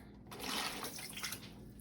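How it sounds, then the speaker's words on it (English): Soaking water is poured off tamarind in a bowl in a home kitchen, a short, quiet splash and trickle that swells and then thins out. "I'm going to dump out a little bit of this water"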